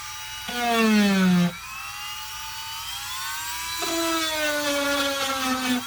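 A Dremel rotary tool grinds the plastic dashboard of a Dodge Grand Caravan, its high whine rising and falling in pitch with load changes, with one louder, harder cut near the start, close up and with no talking.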